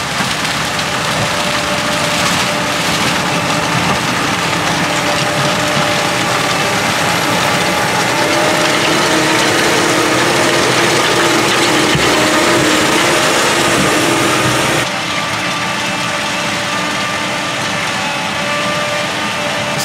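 A fodder beet harvester working a winter field, cutting the leaves and lifting beet into its rear bin; a steady loud engine drone with mechanical rattling and clanking that runs without pause, easing slightly near the end.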